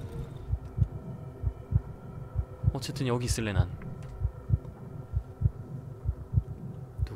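A heartbeat thumps steadily throughout a tense night scene in the survival horror game Darkwood, with a voice talking briefly in the middle.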